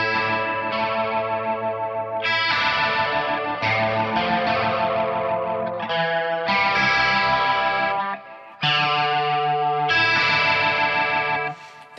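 Distorted electric guitar through a high-gain ENGL amp profile with a rotary effect plays loud, swirling chordal phrases in repeated bursts, with a brief break near the end before the chords return.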